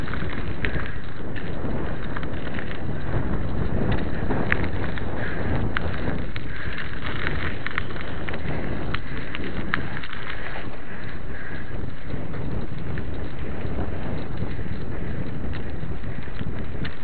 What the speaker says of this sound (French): Ouah, il y a un très vent là.